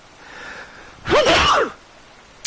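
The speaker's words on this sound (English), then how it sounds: "I'm about to sneeze." A single loud human sneeze, close to the microphone, bursting out in one sharp explosive blast that lasts about half a second between quieter stretches.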